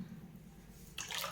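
Water splashes into a pot of karpooravalli rasam, a brief pour starting partway through over a steady low kitchen hum.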